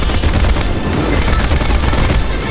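Sustained machine gun fire in the War Thunder combat game, a loud, rapid burst of shots rattling continuously for a couple of seconds at close range.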